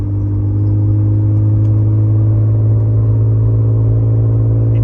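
A Mercedes W124 300CE with the M103 inline-six and its muffler deleted idles in a steady, deep exhaust drone, with a low rumble holding evenly throughout and no voices.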